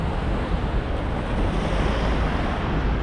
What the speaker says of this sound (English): You got this beautiful ocean right here.